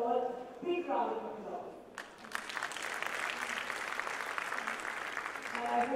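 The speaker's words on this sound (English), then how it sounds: "I want to give you all a big round of" An audience at a medical conference breaks into applause after a voice, a dense, sustained clapping that swells to fill the room and stays steady until the end.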